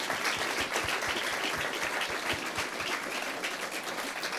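An audience at the 2023 Tewaaraton Award lacrosse ceremony gives a steady round of applause for honored players, with dense, continuous clapping that holds an even level throughout.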